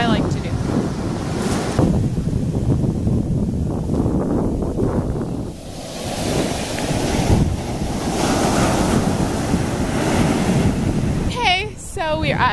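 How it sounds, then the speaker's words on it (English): Ocean surf and gusting wind at a beach on a cloudy day, a loud continuous wash of breaking waves with heavy wind buffeting the microphone, and a brief voice near the end. "We're at the beach and it's very like, I could zoom in. It's a very cloudy day."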